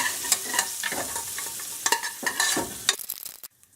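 A spoon stirs bay leaves and other biryani ingredients in a cooking pot, with several scraping strokes and a faint sizzle underneath, close by, before the sound stops abruptly near the end.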